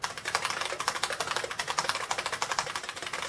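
Fast, steady typing on a buckling spring keyboard of an IBM 5155 Portable Personal Computer, each keystroke a sharp, crisp clack in a quick, continuous rhythm, close up and heard alone.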